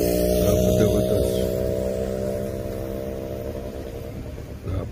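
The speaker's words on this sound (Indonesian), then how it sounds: "Tak putus-putus kereta." Steady traffic at a busy three-way junction in front of a mosque in Bukit Indah, Ampang, with cars and motorcycles passing continuously; a low engine drone holds throughout, loudest at the start, with a brief swell near the end.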